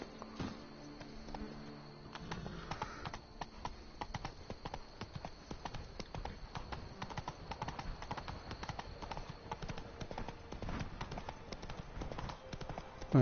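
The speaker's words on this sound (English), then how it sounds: "tenemos que ir en caballo porque está lejos" A horse's hooves clip-clop at a steady trotting rhythm while ridden in The Witcher 3, close and continuous under faint game music and ambience.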